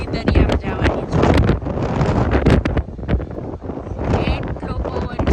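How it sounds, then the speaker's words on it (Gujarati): Strong sea wind gusts hard against the microphone on a London seaside outing, roaring and buffeting continuously with rumbling bursts, while someone talks through it. "એટલો પવન છે, બહુ જ હાલે છે."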